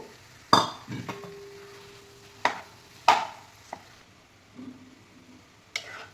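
Potato stirred into masala in a pan while making stuffed capsicum masala, giving a few sharp scrapes and clinks of a spoon against the pan with soft squishy stirring between them, close and fairly quiet.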